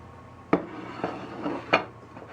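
Knife cutting through hot buttered cornbread in a kitchen, a few sharp clinks and scrapes against the pan or board spaced about half a second apart, close and moderately loud over a soft background hiss.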